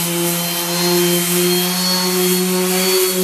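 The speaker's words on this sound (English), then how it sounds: "I've planed down the wood, but there's still a few fuzzies, so now I'm going to sand it down" A power sander works planed wood for a spear with a steady, loud, droning hum, close and continuous, with no talking.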